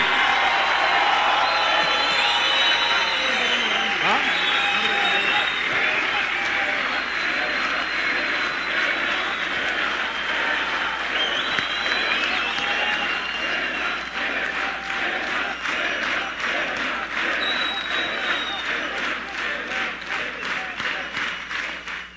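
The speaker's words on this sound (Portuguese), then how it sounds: "A salva de palmas que eu peço não é para mim, para o meu discurso, para ninguém." Sustained, loud crowd applause with cheering fills a political party congress hall in Paraná for the Missão party, a dense wash of clapping and voices that holds steady throughout before thinning slightly at the end.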